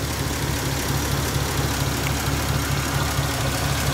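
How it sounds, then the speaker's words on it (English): Original 239-cubic-inch flathead 8BA V8 of a 1951 Ford Custom running at idle, a steady low rumbling drone heard up close, with no voices. "This is the original flathead 8BA engine, 239 cubic inches, 100 horsepower."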